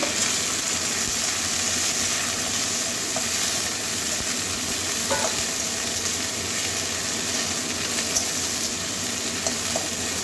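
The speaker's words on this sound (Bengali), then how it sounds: "এবারে কেটে রাখা ভেন্ডিটা দিয়ে দিচ্ছি" Sliced okra sizzles steadily in a pan with lightly fried garlic and onion, a continuous close crackle and hiss with faint stirring scrapes throughout.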